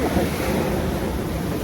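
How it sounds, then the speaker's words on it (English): Ocean waves breaking along a rocky shore, a steady broadband wash of surf mixed with wind rumble against the microphone, with no voices. "look at the waves, how they form way out there"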